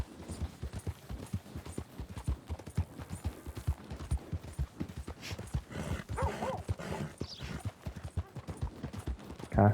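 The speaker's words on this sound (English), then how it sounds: "cavalo já tá bufando" A horse in the Red Dead Redemption 2 video game trots with a steady, close clip-clop of hooves, followed by snorting breaths near the end.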